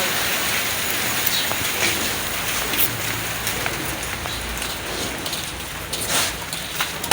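Steady rain patters on surfaces outdoors, a dense continuous hiss with scattered sharper drops, moderately loud and close.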